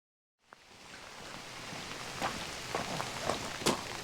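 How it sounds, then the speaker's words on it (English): Rain falling, a soft steady hiss of drops on surfaces that fades in and holds, with a few scattered louder patters close by. "Whew. Rain."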